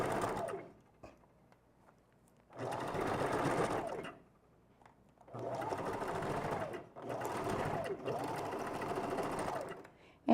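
Sewing machine stitching a U-part wig unit, three distinct bursts of rapid mechanical stitching, close and clear, separated by short quiet pauses.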